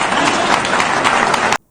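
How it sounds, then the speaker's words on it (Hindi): Audience applause from a crowd at a political gathering, dense steady clapping for under two seconds that cuts off abruptly. "लोग जो है तालियां बजा रहे हैं"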